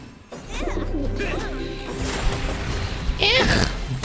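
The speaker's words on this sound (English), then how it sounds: "Birds." Game sound from the online battle arena Smite: short cooing bird calls sit in a busy mix of in-game effects and impacts, with a player talking over the action.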